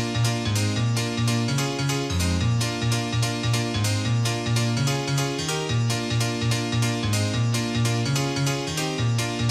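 A bright old-school dance piano patch plays from a MIDI track, a loud rhythmic stab-chord riff with a steady pulsing bass line repeating evenly, heard alone without speech.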